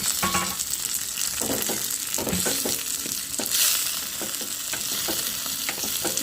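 Finely chopped onion and tomato fry in a pan, a dense sizzle overlaid with frequent clattering spatula strokes and scrapes in an uneven rhythm, close and fairly loud, with no voices.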